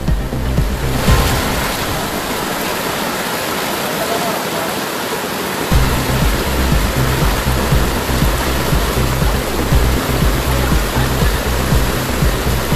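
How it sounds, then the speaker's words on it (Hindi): Heavy floodwater rushes loudly and steadily through a street during torrential rain in Hyderabad, a dense continuous roar with a low rumbling surge joining partway through. "भाई देखो आप कैसा आ रहा है पानी उधर।"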